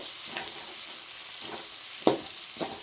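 Garlic sizzles softly in a hot pan while making crab varuval, a steady frying hiss broken by a few scraping stirs of a spatula.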